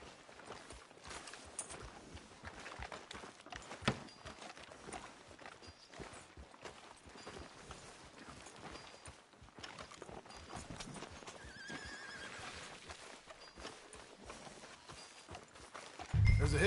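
Horse hooves clip-clop steadily through a Red Dead Redemption 2 game scene at walking pace, with occasional whinnies and neighs, fairly close and moderately loud, ending in a louder low burst.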